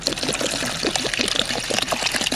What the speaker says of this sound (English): I'll pour this, fill this up with the vinegar